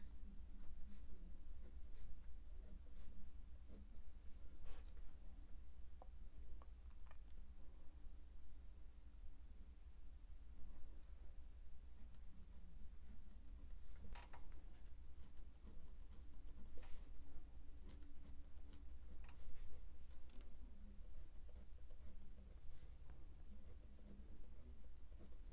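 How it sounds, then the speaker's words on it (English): A pen writes in a bullet journal, a faint, close scratching that goes on and off in short strokes and taps against quiet background hiss, with no talk. "then I just go ahead and write it here."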